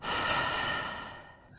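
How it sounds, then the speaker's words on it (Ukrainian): A single deep, close breath during a Wim Hof breathing exercise, a long airy rush that fades toward the end. "Вдихаємо, видихаємо."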